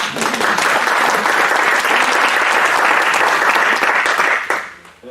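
An audience applauds at an agricultural business testimonial event, a loud, dense burst of clapping lasting about five seconds before fading out.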